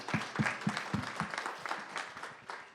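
A crowd applauds after a demo at a startup demo night, with several sharp, close claps at the start that merge into a steady, loud wash of clapping lasting a few seconds.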